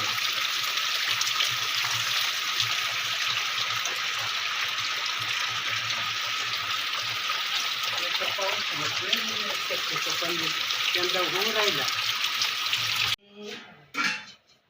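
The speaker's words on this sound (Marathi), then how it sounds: "आता इजांचा तर पाऊस आला तुफान आलाय तुफान पूर्ण पाणी साचलं" A heavy rain storm with water running and pooling makes a loud, steady, unbroken roar. Voices talk over it partway through, and the downpour cuts off abruptly near the end.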